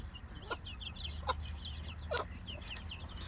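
Young chickens cluck softly and repeatedly at a distance, with a few sharper calls over a steady low background hum.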